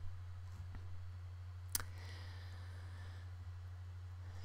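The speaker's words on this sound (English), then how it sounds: "And I'm going to click on upload." A computer mouse gives a single sharp click, close and quiet, over a steady low electrical hum and faint room noise, with a couple of softer ticks before it.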